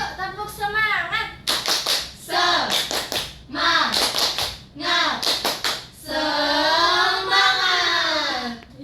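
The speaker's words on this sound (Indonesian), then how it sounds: "Tepuk semangat dulu yuk." A classroom of students claps a rhythmic cheer, with bursts of quick synchronized claps alternating with short sung or chanted voices, loud and close.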